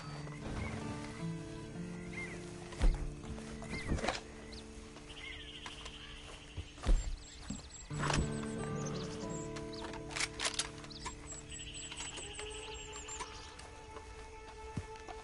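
Horse hooves clop intermittently amid ambient noise, with a few sharp thuds and occasional snorts or whinnies; no talking.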